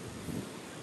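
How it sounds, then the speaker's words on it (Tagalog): Strong wind buffets the microphone at a beach campsite at low tide, a brief broadband rumble with a low-frequency swell and no talk. "sobrang lakas ng hangin"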